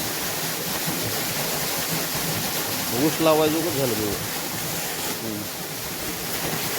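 Water gushes steadily from a 750 borewell motor pump on a farm, a constant broad rushing roar that runs through the whole clip while someone talks over it.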